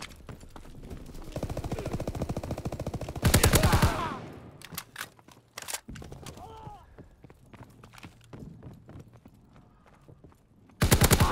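Gunfire in a multiplayer first-person shooter match, with bursts of loud broadband shots, a couple of heavy volleys standing out, amid busy game sounds and a voice talking over it.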